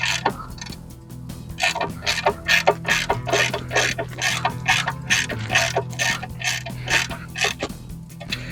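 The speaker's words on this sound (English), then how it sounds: "I'm trying to tighten up the top bolt right now." A ratchet wrench tightens the top bolt on a Mercury Salt Water Series outboard motor during an impeller replacement, clicking in a steady rapid series of close, crisp pawl clicks with short pauses between strokes.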